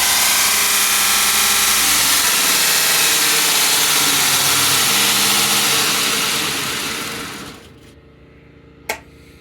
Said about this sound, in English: Generator is working pretty hard, but it's handling it just fine.